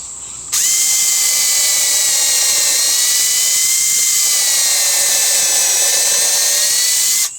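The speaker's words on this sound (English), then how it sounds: "So let's mark one out and get it drilled and screw it home." A power drill pre-drills holes for a fabricated Victorian-style garden bridge, a steady high-pitched whine running for about seven seconds after starting abruptly, close and loud, then cutting off.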